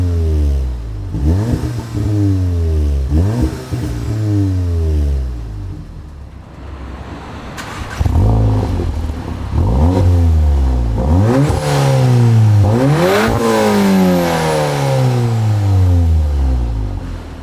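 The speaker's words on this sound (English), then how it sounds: "let's head over to the rear end of the car to show you what the exhaust sounded like before and then after" A VW Golf R MK7 with a Milltek exhaust, particulate filter and catalytic converter kept in place, revs repeatedly up and down, first with the earlier exhaust and then the new one. The blips are loud, close and rhythmic, and nobody speaks.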